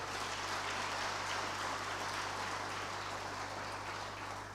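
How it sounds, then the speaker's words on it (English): Applause from an audience at a conference opening ceremony, honoring an ambassador: a steady, even wash of many hands clapping, moderately distant and sustained throughout, with a low constant hum underneath. "Please, a round of applause for them"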